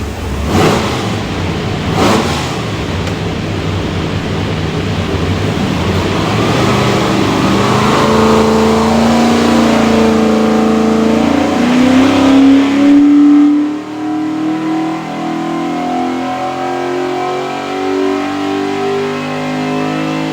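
A Ford 427 Windsor V8 with polished Borla velocity stacks and Terminator X fuel management, on a dyno for a Superformance car, roars loudly through a sustained full-throttle pull as its pitch climbs, then drops away to a lower idle-like rumble.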